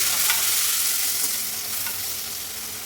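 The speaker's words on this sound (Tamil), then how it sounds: "இப்போ இதில் நம்ம கட் பண்ணி வச்சுருக்கிற 2 தக்காளியும் 2 கருவேப்பிலையும் ஆட் பண்ணி நல்லா வதக்கி எடுத்துக்கலாம்." Tomatoes, onions and curry leaves sautéing in a pan, a loud steady sizzle with a faint stirring scrape running underneath, close and continuous, no one talking.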